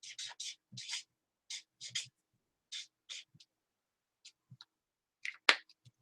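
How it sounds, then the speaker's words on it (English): Tarot cards are shuffled quietly, giving soft, irregular flicks and slaps in short bursts with gaps of silence between them. "So let's keep shuffling"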